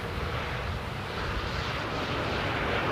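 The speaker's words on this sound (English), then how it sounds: "Beautiful A321 by Transavia here. Cruising down the boulevard." A Transavia Airbus A321 airliner arriving at Amsterdam airport at sunset produces a steady, broad jet roar that holds constant and slowly swells.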